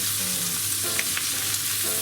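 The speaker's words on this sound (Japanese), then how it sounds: "最初はね、とりあえずこのちくわに焼き目をつける作業ですね" Chikuwa and enoki browning in butter in a frying pan over medium heat, giving a steady close sizzle with light stirring scrapes, no voices.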